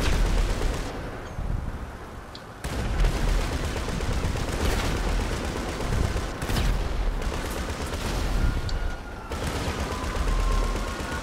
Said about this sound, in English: we got fucking 20 millimeter flak cannon